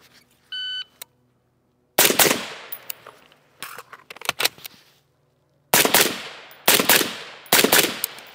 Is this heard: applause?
no